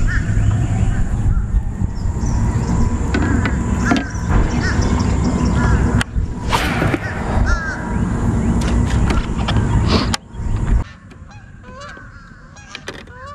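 Loud, repeated honking calls from a flock of geese, overlapping and continuous, with outdoor rustle and bumps, then quieting near the end.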